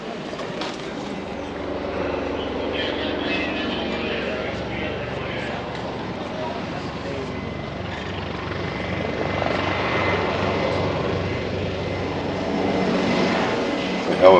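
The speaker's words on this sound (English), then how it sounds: "The helicopter arrived on scene. Did one turn around the ship" A helicopter's rotor thrums steadily as it arrives over a passenger ship for a medical evacuation, fairly close and loud, with speech mixed in underneath the chopping drone.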